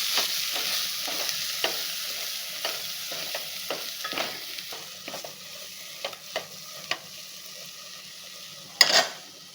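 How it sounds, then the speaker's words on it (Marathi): Spices with dry ginger and turmeric sautéed in a pan, a soft continuous sizzle broken by repeated light clicks and scrapes of a spoon stirring, closing with a louder knock near the end. "आता मसाले व्यवस्थित परतून घ्यायचे आहेत."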